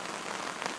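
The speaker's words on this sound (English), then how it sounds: "Rain's letting up a little bit" Steady rain pours down outdoors on a flooded rural property, a dense, even hiss of drops hitting surfaces, fairly loud and continuous with no talk.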